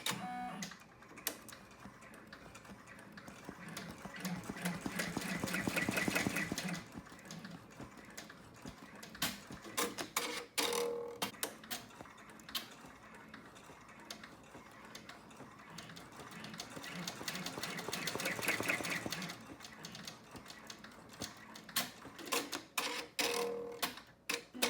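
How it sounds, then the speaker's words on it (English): An embroidery sewing machine stitches faux placement lines on vinyl for a two-zipper purse, a continuous fast mechanical chatter that swells louder and softer in long passes, close and steady, no talking. "Now on step 8, faux placement lines are stitched."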